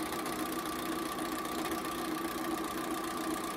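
A sewing machine stitches gingham fabric pieces together for a table runner, giving a steady, continuous motor hum at even loudness throughout with no pauses.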